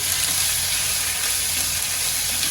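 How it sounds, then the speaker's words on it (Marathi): A spoonful of ground masala paste frying in hot oil for katachi amti, a loud, steady sizzle and crackle filling the clip without pause or voices. "वाटण एक चमचा मोठा घालून घेतलाय मी हा सर्वांना तेलामध्ये मी चांगलं फ्राय होऊ देते"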